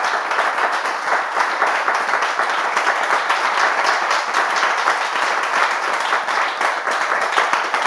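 A TV studio audience applauds continuously, a dense, even wash of many hands clapping that stays loud and steady throughout.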